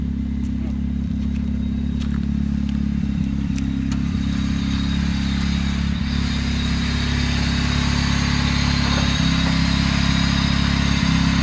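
A turbocharged Honda Civic hatch engine runs steadily and loudly up close, a deep continuous drone with a few faint revs under a constant throb and no talking.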